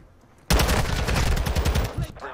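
An MX9 submachine gun in Call of Duty: Modern Warfare opens up suddenly in a sustained, rapid burst of close, loud automatic fire lasting about a second and a half, then cuts off with a brief tail.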